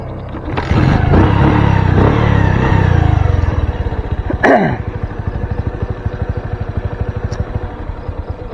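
A motorcycle engine runs close by at a farm hut in a string-bean field: a loud steady drone, then a sharp rev around the middle, then settling into a lower, pulsing idle.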